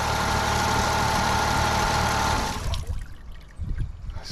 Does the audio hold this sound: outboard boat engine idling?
yes